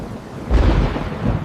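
A summer storm sends out a short, deep rumble of thunder that surges and rolls briefly before easing, heard alone with no voices.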